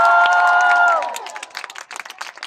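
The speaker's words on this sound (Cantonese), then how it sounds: "中意嘅朋友俾多啲歡呼聲先" A cinema audience at a film stage appearance cheers and claps: a sustained, voice-like tone lasts about a second, then gives way to scattered, uneven applause that fades toward the end.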